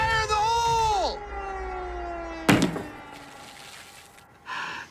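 An explosive charge detonates six inches from a tomato in a blast test, one sharp close boom after a descending siren-like tone, then a brief fading rumble and a short later noise.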